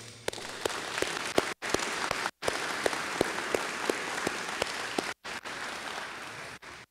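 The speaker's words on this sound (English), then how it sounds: "Let's just give them a round of applause." An audience at a school National Signing Day event applauds the athletes with steady, moderately close clapping, a few sharp individual claps standing out, broken by several brief dropouts.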